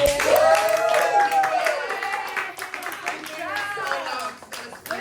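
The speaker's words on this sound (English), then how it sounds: "I think we should all just clap and scream for being here for 2 to 3 hours" Audience at an artist show-and-tell clapping and cheering, a steady spatter of applause with scattered voices, while someone talks over it.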